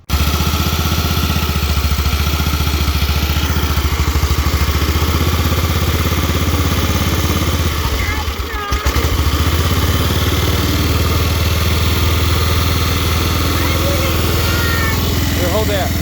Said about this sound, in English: So we have a running tractor.